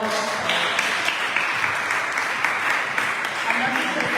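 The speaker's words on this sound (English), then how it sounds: "Let us just give them again another round of applause." A seminar audience claps continuously in a sustained round of applause, dense and fairly loud, with a voice faintly audible underneath.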